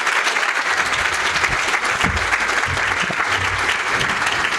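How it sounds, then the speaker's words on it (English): A crowd at a TUC lobby rally applauds with continuous, loud, dense clapping, mixed with a few low voices and cheers, lasting through the whole stretch. "Big round of applause for Janice."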